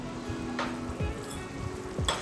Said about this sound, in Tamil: ஸோ ஓரளவுக்கு இப்போ கொதிக்கிற நிலமை வந்துடுச்சுல்ல.